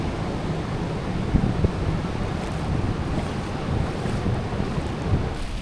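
Strong ocean waves at Biri Island crash and churn in a steady, loud wash, with wind buffeting the microphone throughout and no voices.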